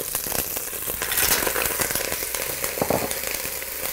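Mussels frying in a hot pan with garlic, thyme and parsley, a loud dense crackling sizzle with rapid pops throughout, very close and without talk.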